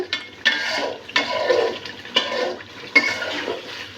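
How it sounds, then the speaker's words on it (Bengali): Broth is poured into a pot of fried spices during home cooking, producing four separate bursts of sizzling and splashing, each one fading before the next. "মশলাটা কষানোর পরে একটু সামান্য ঝোল দিয়ে দিচ্ছি"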